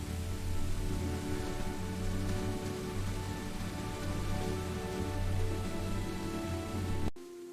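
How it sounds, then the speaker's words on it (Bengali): Heavy rain pours down in a dense, even hiss that stays steady throughout, then cuts off abruptly just before the end. "অল্প সময়ের মধ্যেই শুরু হলো প্রবল বৃষ্টি।"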